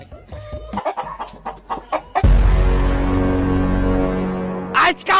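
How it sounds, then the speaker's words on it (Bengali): Chickens in a homestead yard give short scattered clucks, then one drawn-out call that holds for a couple of seconds before a final burst of clucking nearby. "আজকাও ভিটাত মুরগি ঢুকিয়া"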